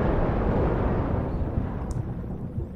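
Explosion in the video game Far Cry 3, a loud, dense rumbling blast at the start that decays into a long low roar over a few seconds.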